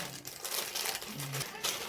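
Crinkly plastic packaging around a lip gloss, lip liner and lip balm set being opened, rustling and crackling steadily at close range.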